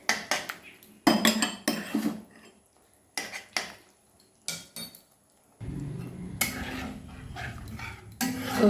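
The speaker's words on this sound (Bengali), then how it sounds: "দইটা দিয়ে খানিকক্ষণ নাড়িয়ে যাব।" A spoon scrapes and clanks in a pan as yogurt is stirred into a spice masala on low flame for doi begun, in irregular bursts of metallic scraping separated by short pauses.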